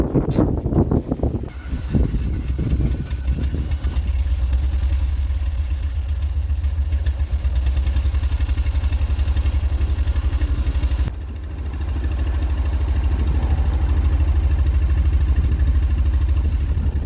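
A Ford Fiesta Mk3 engine cranks, catches after a rough start and settles into a steady, close idle with a rhythmic mechanical clatter; a brief dip interrupts it before it continues.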